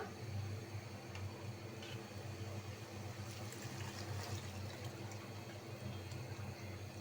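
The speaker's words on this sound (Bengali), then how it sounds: "ডালটা কষানো হয়ে গেছে এখন আমি পানি দিয়ে দিব" Water pours steadily into a pot of cooked chickpea dal, a continuous close rushing splash with no talking.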